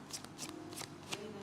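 A short run of tarot card shuffling: four quick papery riffles close by, soft and even against a faint low hum.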